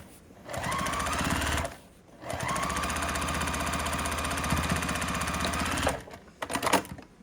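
A sewing machine stitches the corners of a scrap-fabric Christmas basket in two long, steady rattling runs separated by a brief pause, ending with a few short bursts, close and without speech.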